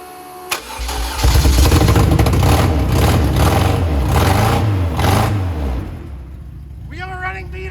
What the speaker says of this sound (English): We have a running Beetle!